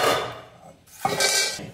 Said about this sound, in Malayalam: ഞാൻ ഇനി വേറൊരു പാത്രത്തിലേക്ക് ബാക്കി ഇട്ട് കൊടുക്കാണ്